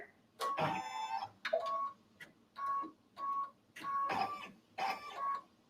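An embroidery machine sews a satin stitch around letters on a sweatshirt, giving bursts of rapid buzzing needle stitching separated by short pauses and a tonal motor hum, fairly close and alone.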